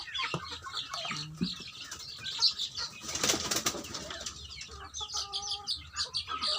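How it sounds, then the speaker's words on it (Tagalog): Young chicks flap their wings as they are moved from a crowded cage to a new one, giving bursts of fluttering with clucking and peeping mixed in, close and moderately loud. "Naglilipat tayo ngayon ng mga sisiyo kasi medyo suffocate sila sa kulungan nila."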